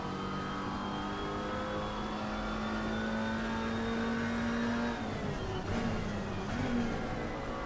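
A McLaren GT4 race car engine in Assetto Corsa Competizione on the Spa circuit in wet conditions, a steady loud engine drone holding pitch and then shifting with revving changes, close and continuous, with no talking.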